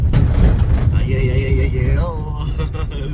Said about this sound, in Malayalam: ഇവിടെ എല്ലാവരും കുതിരേനെ കൊണ്ട് നടക്കുന്നത് കേട്ടോ.